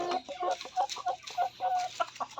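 Native chickens cluck in short, irregular bursts at a moderate distance, one clucking call following another without pause.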